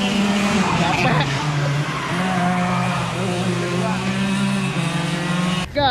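Go-karts race around the Sentul circuit, their engines droning steadily and shifting pitch as they pass, with tire squeal and skidding cutting through the loud, continuous motor noise.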